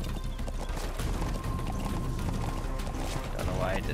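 Game audio from Metal Gear Solid V: The Phantom Pain, with a horse galloping in a steady, rapid clip-clop of hooves that runs loud and continuous throughout, mixed with other game sounds.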